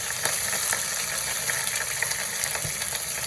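Onion, curry leaves, garlic and green chilli crackling in hot oil, a dense, steady sizzle with fine popping spatters throughout and no talk.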